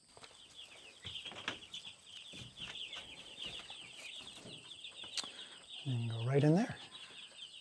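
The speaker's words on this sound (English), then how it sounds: "There's about 80 broiler chicks in here." Roughly 80 week-and-a-half-old broiler chicks peep constantly in a coop on an organic farm, a dense, high chorus of chirping at moderate distance, with a person briefly speaking and a louder nearby call near the end.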